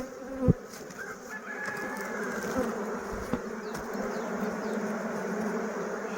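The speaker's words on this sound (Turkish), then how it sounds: "arılar diğer dışarıdaki arıları komple kovanımıza çağıracaklar diyelim" Honeybees buzz steadily at the entrance of a hive while a small swarm is being housed, a dense continuous drone with a brief louder burst near the start and a faint rooster crowing far off.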